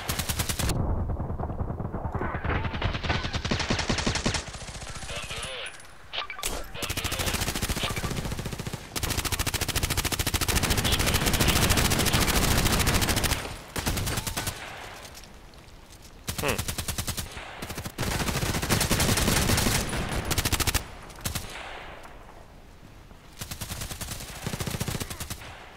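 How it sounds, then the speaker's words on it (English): Rapid hip-fired bursts of automatic gunfire in the online shooter Contract Wars, loud and close, coming in long, dense volleys broken by brief pauses over about twenty-five seconds. "That was hip firing."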